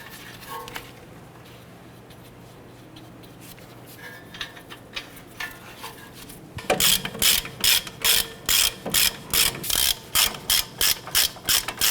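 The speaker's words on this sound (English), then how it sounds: "I'm going to go ahead and get these snug down." Ratchet tightening the strut bolts on a 2009-2015 Honda Pilot front strut: a quiet stretch of faint shop noise, then a loud, rapid series of rhythmic ratcheting clicks in bursts, close to the microphone.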